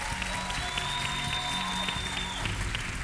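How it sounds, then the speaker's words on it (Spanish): A television studio audience on a singing competition claps steadily for two women singers after their duet, a dense even wash of applause with a faint tonal hum running underneath. "Un aplauso para este show que acaban de dar estas chicas"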